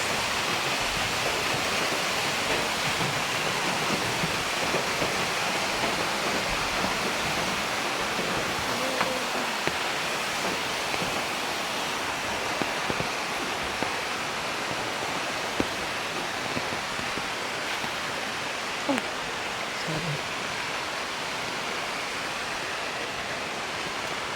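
Kanumantad Falls, a hidden waterfall, gives a constant broadband rushing roar that is steady and fairly loud and fills the whole stretch with no break.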